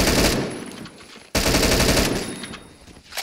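Automatic gunfire in a Counter-Strike-style shooter, fired through walls as wallbang shots: dense rapid bursts filling the whole clip, with a short break near the middle before another loud burst, no talk.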